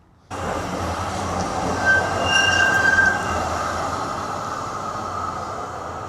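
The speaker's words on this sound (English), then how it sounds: "Tram is racing through and it's empty" An empty tram rumbles steadily past up close in The Hague, wheels faintly squealing on the rails, with no voices over the continuous rolling noise.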